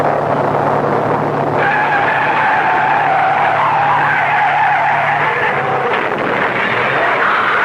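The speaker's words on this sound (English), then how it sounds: "the skid that sent him hurtling through the guardrail" A car skids off the road and smashes through a guardrail in a radio drama, with a loud sustained tire screech and rushing engine noise running steadily through the whole scene.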